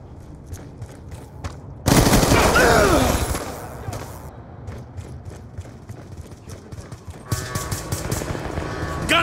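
Gunfire in Call of Duty Black Ops II multiplayer: a loud burst of automatic fire, then scattered shots and clattering steps, with another burst near the end and voices calling out between them.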